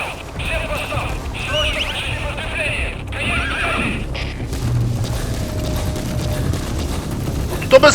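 A horse in Metal Gear Solid V lets out a loud, drawn-out neigh in two bursts early on, followed by low rumbling hoofbeats and thumps.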